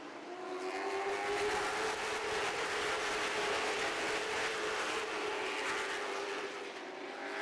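Race cars at Wake County Speedway roar past together in a steady, loud wall of engine noise that holds for several seconds, with no one talking over it.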